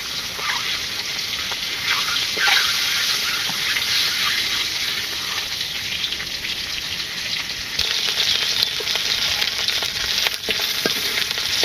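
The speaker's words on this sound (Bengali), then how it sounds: "ডিম ভাজি হয়ে গেছে।" Duck eggs sizzling and crackling in hot oil in a pan, a steady close frying hiss with occasional pops and a louder stretch near the end.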